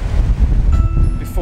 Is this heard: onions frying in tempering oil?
no